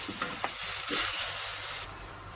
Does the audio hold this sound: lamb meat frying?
yes